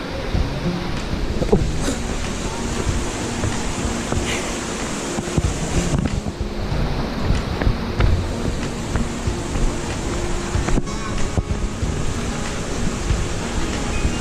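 Khlong Lan waterfall in Thailand roars steadily from start to finish, a dense, unbroken rush of falling water with no voices over it.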